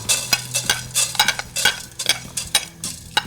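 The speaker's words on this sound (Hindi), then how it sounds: "उसमें हम क्या करेंगे, थोड़ा सा भून लेंगे साबुत धनिया को।" Whole coriander seeds are dry-roasted in an empty pot, with a steady run of light scraping and stirring strokes against the metal and a soft rattle and hiss from the seeds, close and fairly loud.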